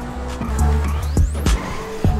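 A fast car is driven in GTA V, its engine droning loud and close. The pitch rises through the gears, and bumps and tire noise cut in now and then.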